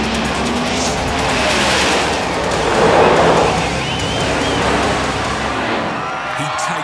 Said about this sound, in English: Now for the main event, the Nitro Funny Cars.